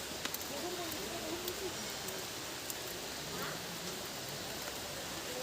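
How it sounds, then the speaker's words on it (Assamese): Heavy rain falls steadily near an old temple in Assam, a faint, even hiss of drops with no pauses and no voices. "আজি পুৰা বৰষুণ দি আছে"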